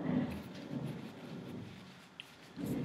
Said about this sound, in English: Oh, there's a thunderstorm outside, I don't know if you can hear that.